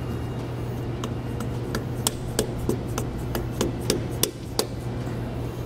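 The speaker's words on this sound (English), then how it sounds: "just using a dead blow hammer. Get that seated in position all the way around." Dead blow hammer tapping a dust cap into place on a trailer hub and drum assembly: a series of about eight sharp, spaced knocks over a steady low hum, close and moderately loud.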